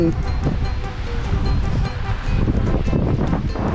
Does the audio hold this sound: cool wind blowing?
yes